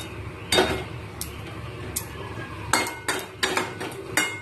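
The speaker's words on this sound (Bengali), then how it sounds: "2 থেকে 3 মিনিট একইভাবে নেড়ে চেড়ে যাবো, যতক্ষণ না কাঁচা মশলার গন্ধটা দূর হচ্ছে" A metal spoon stirs spices in a pan, scraping and clinking against the metal in irregular bursts, several sharp knocks standing out over a quiet background.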